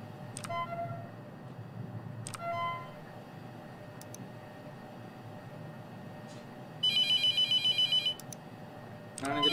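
A telephone rings in the horror video game The Mortuary Assistant. A short burst of rapid electronic trilling pulses comes near the end, over a low background hum, with a few scattered ticks and clicks earlier.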